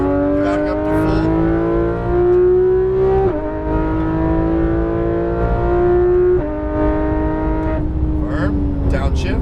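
Porsche 911 GT3 RS (991) engine on a race track, pulling hard under throttle with rising engine tones broken by quick gear changes, loud and close throughout, with a voice coaching over it.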